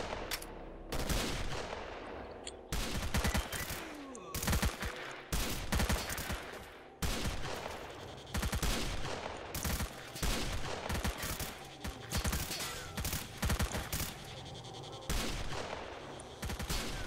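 Rapid gunfire in S.T.A.L.K.E.R.: Call of Pripyat, loud, close bursts of shots in quick succession, repeating almost continuously with only brief pauses between volleys.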